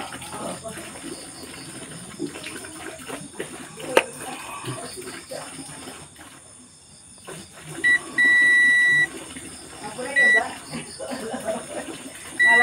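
A multimeter set to buzzer mode gives several sharp electronic beeps, one long and a few short, while someone talks intermittently nearby during an ignition coil check.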